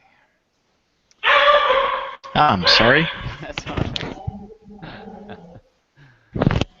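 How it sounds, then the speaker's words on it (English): A dog barks in loud, close bursts, partly mixed with a person talking nearby. "I don't even know what he's barking at."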